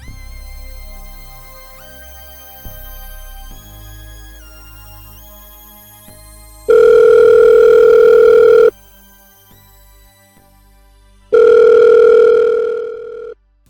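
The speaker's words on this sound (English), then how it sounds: "we waited for Jinra to pick up the phone" A telephone calling tone rings out in two long, loud steady bursts with a pause between them, following a stretch of quieter background music.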